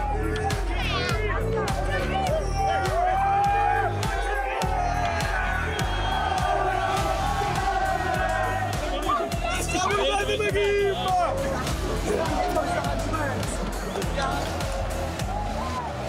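Napoli fans fill the night with a dense, steady roar of cheering and chanting as they celebrate the club's third league title after 33 years, voices overlapping in a loud, continuous crowd mass.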